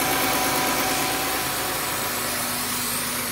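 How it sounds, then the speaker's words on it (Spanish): A pickup truck's gasoline engine runs at a steady idle after starting, a continuous loud mechanical hum with a faint whine, with no talking over it. "Lo hice prender la troca."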